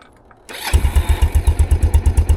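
A Kawasaki Prairie 300 ATV engine catches after a moment of quiet and settles into a loud, close, rhythmic idle thumping steadily.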